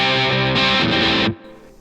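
Distorted, punky electric guitar played through a Vox AC30C2 amp, a loud sustained chord ringing for over a second before cutting off abruptly into a faint decaying tail.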